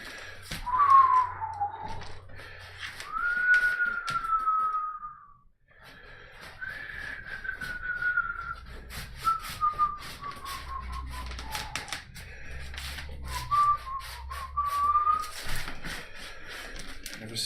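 Someone whistles a wandering tune in clear phrases over about seventeen seconds while painting, with soft brush and tapping sounds underneath and short pauses between phrases.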